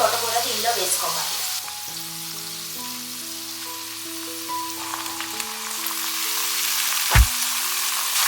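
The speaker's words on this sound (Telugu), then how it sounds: "మనం చిన్నగా కట్ చేసి పెట్టుకున్న తోటకూర దీనిలో వేసుకోవాలి" Chopped amaranth leaves drop into a pan of cooked potatoes, setting off a loud crackling fry that settles into a steady sizzle, with a sharp utensil knock near the end and no talking.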